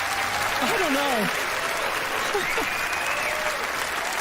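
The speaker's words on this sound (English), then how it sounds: "Let's give Genevieve a round of applause." Studio audience applause on a magic competition show, a broad steady wash of clapping running throughout, with talking voices heard over it.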